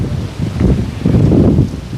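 Strong gusty wind buffets the microphone on an open golf course, a loud, rough low rumble swelling and easing over two seconds with no speech.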